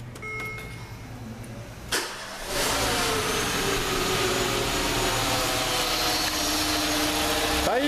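A rebuilt Peugeot 207 1.4 8v engine from 2010, sitting on a stand in a mechanic's workshop, cranks briefly, catches and settles into a loud steady running hum with slight revving.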